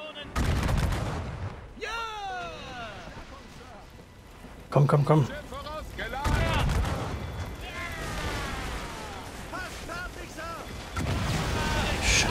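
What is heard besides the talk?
ship cannons firing in video game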